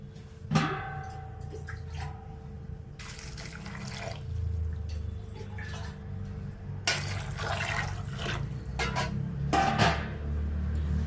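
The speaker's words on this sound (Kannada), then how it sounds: "ಇದಕ್ಕೆ ನೀರು ಹಾಕ್ಕೊಳ್ಳೋಣ." Water poured into a pressure cooker holding two peeled, cut medium potatoes, a steady running splash with a few louder spurts, close and continuous with no talk.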